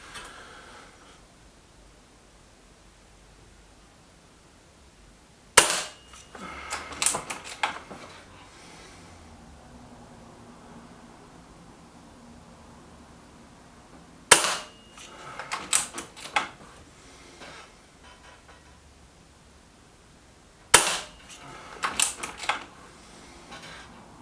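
A Gamo Venari air rifle firing JSB Match Diablo pellets: three sharp, loud shots spaced several seconds apart, each followed by a brief rattle of mechanical handling, with quiet room tone between.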